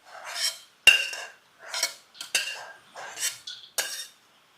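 A metal spoon scoops roasted almonds out of a pan in a steady series of about eight short scraping clinks, close and clear with brief pauses between them.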